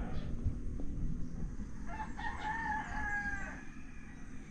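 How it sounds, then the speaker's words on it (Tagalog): A wild red junglefowl rooster crows faintly from a distance in quiet countryside, a thin, high, drawn-out call standing over steady background noise, with no talk. "Marinig mo na lang yung tilaok ng labuyong manok."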